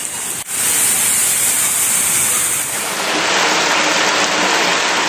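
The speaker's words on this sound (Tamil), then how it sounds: "கோவை மாவட்டம் கவுண்டம்பாளையம் பகுதியில் பெய்த திடீர் கனமழையால் சாலையோரங்களில் மழைநீர் அதிக அளவில் தேங்கியது." Sudden heavy summer rain pours down in Kavundampalayam, Coimbatore, a loud, steady broadband wash of rainfall that begins abruptly and keeps up without pause.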